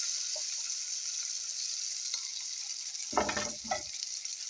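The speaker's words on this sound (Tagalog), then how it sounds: "Ito, mainit na itong mantika dito. Kaya ibuhos na natin ito." Cauliflower and egg omelette mixture poured into hot oil, setting off a steady high sizzle with two short bursts of louder crackling near the end as the batter hits the pan.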